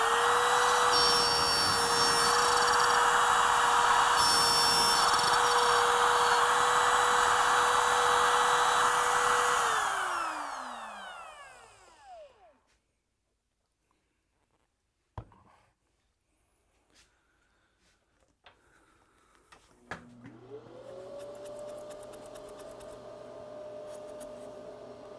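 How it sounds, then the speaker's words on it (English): A handheld wood router runs loud and steady for about ten seconds while cutting numbered slots in a wooden bowtie clock, then winds down. After quiet clicks and handling noise, it spins up again and keeps running. "Hold your router firmly when you turn it on."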